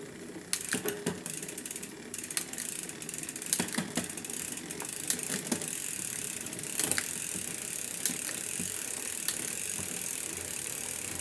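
Rear derailleur on a mountain bike shifting through the cassette while the cranks turn, a continuous ticking freewheel and chain rattle with repeated sharp clicks as gears change, close up and without speech.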